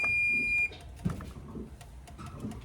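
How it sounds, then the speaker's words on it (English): Kitchen oven timer beeping while a strawberry pie bakes: one sustained electronic tone that cuts off after about half a second, followed by quiet kitchen clatter. "Our timer went off"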